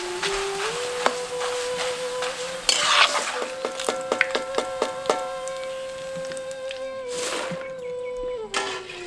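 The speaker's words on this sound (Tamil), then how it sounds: "அடுத்து கொஞ்சம் எண்ணெயில சுமாரா ஒரு 50 கிராம் சோளாவில பொரிச்சு எடுத்துக்குவோம்." Chola dough sizzling in hot oil for Tamil street-style masala poori, with a steady bubbling fry under repeated metallic ladle clinks and stirring scrapes against the pan, close up and without speech.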